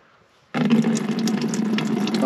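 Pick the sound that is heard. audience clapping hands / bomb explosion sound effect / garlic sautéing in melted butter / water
water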